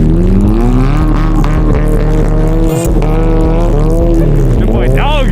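A Dodge Hellcat revs hard and slides in the snow, its loud, close engine roaring and its pitch rising and falling as the car slips and spins, with people speaking over the din.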